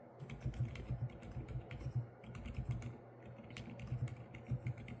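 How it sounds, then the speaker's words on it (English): Steady, muted typing on a GamaKay keyboard fitted with silent tactile Pegasus switches, soft dense keystrokes close up with a low background hum and no talking. "This is a very unique silent tactile Pegasus switch."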